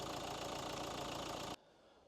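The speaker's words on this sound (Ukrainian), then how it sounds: "Ось так працює наш двигун запущеним." The 1.5 dCi diesel engine of a 2015 Nissan Qashqai with 190,000 km idles steadily and close by with a low knocking rumble, then cuts out abruptly, leaving near silence.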